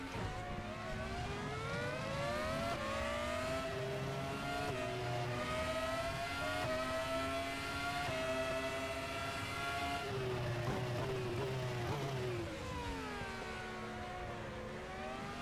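Race car engine in the RaceRoom video game accelerates hard, its loud, close, whining pitch climbing steeply through each gear, with quick shifts and drops between pulls and no voices.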